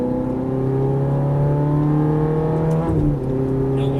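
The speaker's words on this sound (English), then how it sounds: "Put the pedal all the way down to the floor." A Ferrari F430 sports car accelerating at full throttle, a loud continuous engine roar rising steadily in pitch before a brief dip near the end, with no speech.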